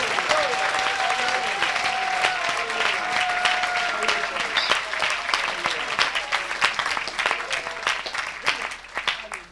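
A church congregation applauds and cheers at a worship service, dense sustained clapping with shouts of acclaim and a voice ringing out over the crowd.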